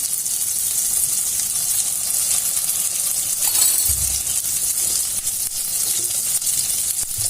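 Butter melts in a pan for a bread candy sweet, giving off a steady, bright sizzling hiss that continues throughout. A few faint clinks and stirring sounds come through, and no one speaks.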